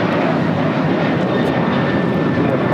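American Airlines Boeing 737-800 taking off at LAX, a loud, steady broadband jet engine roar holding close and constant throughout with no pauses.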